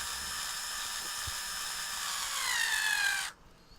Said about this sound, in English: Screwdriver is dying.